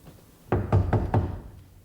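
Four firm knocks on a door, evenly spaced and close, loud against a quiet room with no voices.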